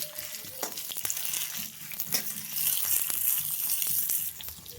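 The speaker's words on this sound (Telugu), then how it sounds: "ధనియాలు జీలకర్ర వేసి కూడా మంచిగా వేయించండి." Coriander seeds and cumin fry in a pan for a fresh coconut chutney, giving a steady close sizzle with scattered crackles and occasional stirring scrapes throughout.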